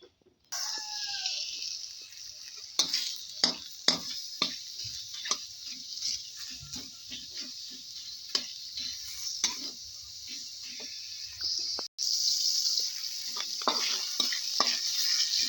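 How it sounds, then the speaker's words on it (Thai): Pork belly fries in a pan for a Thai curry with eggs and basil, a constant hiss of sizzling fat broken by repeated clacks of stirring, with a rooster crowing faintly nearby at the start. "เราก็จะนำหมูนะคะ หมูสามชั้นของเราไปเจียวค่ะ"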